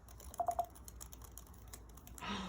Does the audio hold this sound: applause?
no